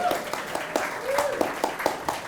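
A studio audience at a comedy talk show gives a short burst of clapping with distinct, fairly regular individual claps. Voices and crowd noise mix in underneath.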